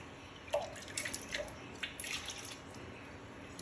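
Water trickles and drips into a pan of lasagna sauce, a few soft splashes and drips spread through the moment at moderate closeness, with no talk.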